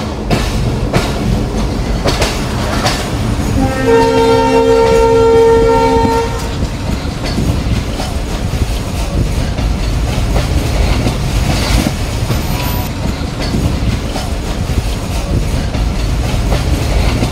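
A Banglabandha Express train with old coaches rumbles loudly and continuously along the rails, with a long horn blast partway through and steady clatter throughout.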